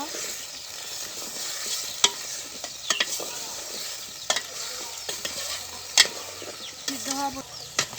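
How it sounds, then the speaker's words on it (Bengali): Vegetables sizzle in a pan of spiced big-fish curry cooked outdoors. A steady frying hiss runs throughout, broken by repeated scraping strokes of the stirring spoon, with faint background noises. "এখন আমি ধুয়ে রাখার সবজিগুলো দিয়ে দেব এভাবে নেড়ে চেড়ে কিছুক্ষণ কষিয়ে নেব"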